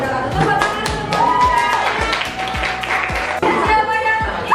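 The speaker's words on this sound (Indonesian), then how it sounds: "Tepuk tangan semua." A group at an Indonesian teachers' class presentation claps in a rhythmic pattern, with steady low thumps about every half second. Voices and shouts mix loudly into the clapping.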